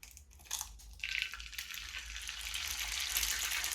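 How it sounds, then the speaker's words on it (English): A whole egg cracked one-handed against the edge of a hot pan gives a couple of sharp, close cracks. A bright, steady sizzle then swells and holds as the egg hits the pan, with no voices. "egg cracking"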